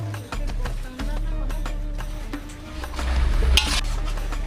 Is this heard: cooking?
yes